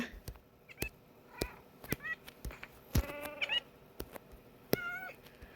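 Several cats meow in short, scattered calls over a low background, interspersed with sharp clicks and taps, in Minecraft.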